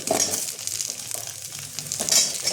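Potatoes, sweet potatoes and other vegetables sauté in a pan of oil with fenugreek and ginger for a Bengali shukto, giving a steady close sizzle with stirring scrapes and two brighter hiss bursts, with no talking.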